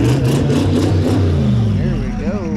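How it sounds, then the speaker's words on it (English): A Chevrolet Monte Carlo engine revs loud and close in rapid throttle blips with a deep rumbling roar, then settles into a rising and falling drone, with voices faintly audible underneath. "I think I hear the Monte Carlo coming."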